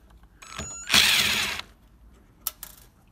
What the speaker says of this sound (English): undo the screws.